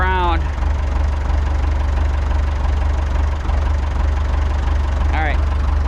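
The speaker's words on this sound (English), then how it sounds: "all I can do now is try to get the tractor turned around." A tractor engine idles steadily while the machine turns around in snow, a constant low rumble throughout with faint whining squeals near the start and end.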